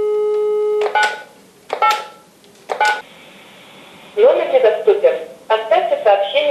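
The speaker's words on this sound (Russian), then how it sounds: "сообщение на автоответчик." Telephone call reaching an answering machine: a steady dial tone, then short bursts of keypad tones and beeps, followed by a recorded voice message playing through the phone line.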